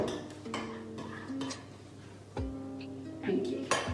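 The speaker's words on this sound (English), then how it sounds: "squeeze some tomato puree, and then give it a good old mix" A spoon scrapes and clinks against a bowl while mixing tinned tomatoes with tomato puree, in a few irregular knocks and stirs spread between quieter moments.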